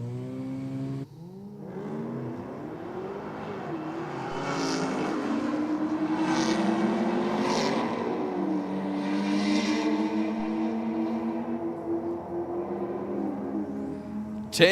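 A Holden Commodore on Hoosier radials and a Mazda RX-7 on standard street tyres launch side by side at a drag strip, their engines rising in pitch through gear changes as they pull away, loud and sustained.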